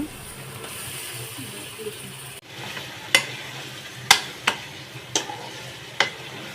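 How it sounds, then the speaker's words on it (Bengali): Aar fish frying in spice paste in a pan, a soft sizzle under sharp spatula scrapes and taps that come roughly once a second in the second half, close and unaccompanied by talk. "মশলা কষানো হয়ে গেলে মাছ দিয়ে দেব"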